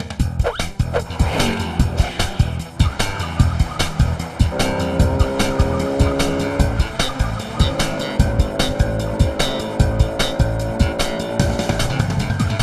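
A cartoon scooter chases a jeep, with revving engines, repeated tire squeals and sharp yelping barks packed into a loud, busy animated soundtrack that stays intense throughout.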